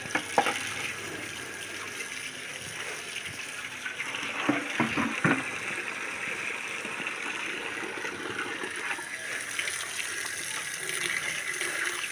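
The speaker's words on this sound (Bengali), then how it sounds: "মাছগুলো ধুয়ে নিই।" Running water splashes steadily while boal fish are washed, a continuous close gush with a few brief knocks and clatters of handling partway through.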